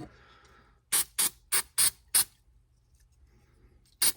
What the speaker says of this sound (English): I'm going to use a contact cleaner that's plastic safe